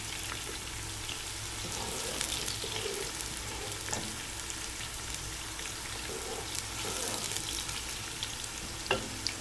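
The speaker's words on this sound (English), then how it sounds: "Stir fry these until you see that the color begins to slightly change." Finely chopped spring onions stir-fried in a pan, a steady close sizzle with scattered crackles and occasional scrapes of a spatula throughout.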